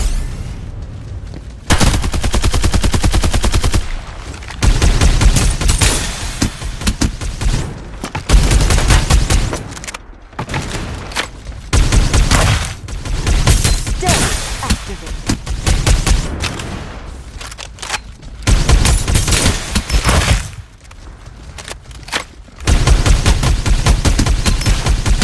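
Dense bursts of automatic gunfire and booms from the battle royale video game Farlight 84, loud and nearly continuous with brief gaps between volleys.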